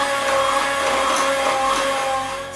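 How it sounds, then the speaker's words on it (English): An electric mixer whirs steadily and loudly, close by, as it beats egg and vanilla into chocolate chocolate chip peanut butter walnut cookie dough, with its motor tone holding constant for the whole short stretch. "Then you want to take your mixer again and just make sure that the vanilla and the egg is well combined."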